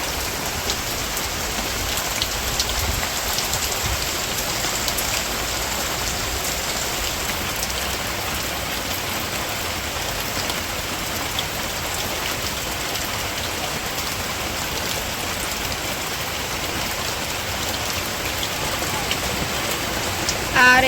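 Steady rain falls across village plants and broad taro leaves, a dense even patter that stays close and constant throughout, with no voices.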